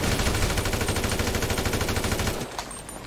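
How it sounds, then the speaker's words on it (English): Rapid automatic assault rifle fire in GTA V roleplay, a loud sustained burst of evenly spaced shots that stops abruptly near the end, leaving a brief quieter tail. "Shock, can you hear the gunshots?"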